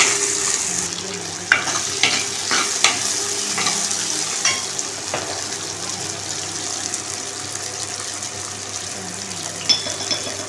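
Steady sizzling and frying of tomatoes in a pan with occasional stirring clinks and scrapes, continuous and fairly close.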